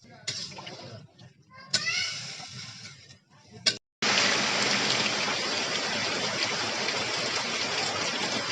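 Rain falls in a Bangladeshi village, first as a softer patter beneath voices and household sounds, then after a brief gap as a loud, dense, steady downpour hiss that fills the rest.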